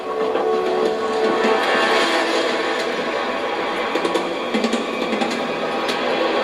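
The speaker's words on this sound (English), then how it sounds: "The gas is expanding out of the cylinder into there and occupying more space." Compressed gas rushes from a cylinder through a nozzle into a hole, giving a steady, close, continuous hiss that holds evenly for the whole stretch with only small flutters.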